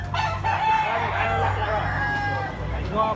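A medium-sized black leg gamefowl stag crows loudly and close, one long drawn-out call. Other roosters and fowl can be heard around it.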